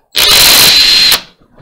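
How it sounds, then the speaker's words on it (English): A power drill bores holes in a prop knife: one loud, close, steady whine lasting about a second, with a sharp start and stop. "I'm drilling the holes in this so that I can create a mechanical lock"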